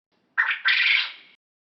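A quail gives one close, fairly loud raspy call in two parts, a short burst and then a longer harsh note, alone against silence.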